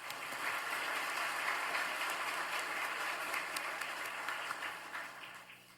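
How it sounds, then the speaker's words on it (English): Sustained audience applause at a business hall of fame induction ceremony, a dense steady wash of many hands clapping at moderate distance, holding evenly before tapering slightly at the end. "Please let's give another round of applause."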